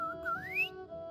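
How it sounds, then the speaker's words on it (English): A Genshin Impact character whistles a single clear rising note that slides upward and then fades, with no speech alongside. "She even do a whistle."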